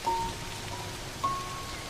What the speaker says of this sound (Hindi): लेकिन इस तरह अचानक मूसलाधार बारिश होना अजीब है।